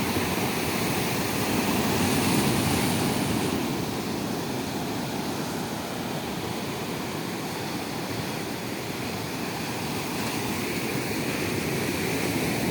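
Strong cold wind blows steadily across Mandermani sea beach at high tide, a loud continuous broadband roar with surf mixed in, no voices, unbroken for the whole stretch.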